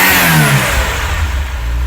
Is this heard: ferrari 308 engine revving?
yes